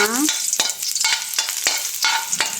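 Garlic sautéing in a pan, an ongoing sizzle broken by about five rhythmic scraping strokes of a spatula stirring, close and fairly loud.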